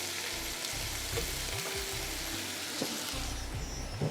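Rice being stirred into hot oil in a pan for chili garlic chicken wings, a steady close sizzle with soft scraping and stirring sounds throughout, no talking.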